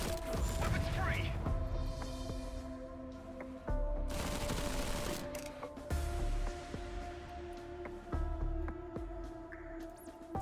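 Gunfire in the strategy game Zephon: rounds of booming weapon fire and sharp impacts come in several bursts over a steady hum of game music, with speech heard throughout.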